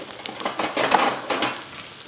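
A spoon stirs and clinks against a bowl while a Thai-style sauce is mixed, giving a scatter of light metallic taps and scrapes over about two seconds, with no voices.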